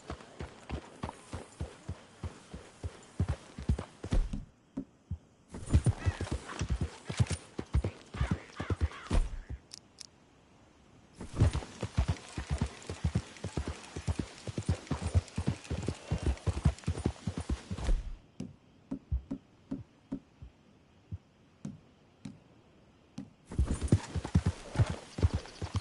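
Horse hooves clip-clop steadily in Red Dead Redemption 2, a close, rhythmic trotting that runs in long bursts separated by brief pauses, with an occasional whinny.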